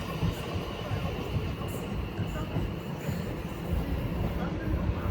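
A Class 444 electric train pulls into Clapham Junction on a service to Weymouth from London Waterloo, giving a steady, loud rumble of wheels and running gear that holds for the whole stretch, with faint voices now and then.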